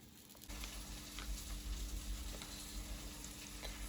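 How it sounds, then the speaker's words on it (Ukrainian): Frying in corn oil begins after a brief pause, a steady crackling sizzle with scattered pops, fairly close and even throughout. "смажимо вже на кукурузній олії"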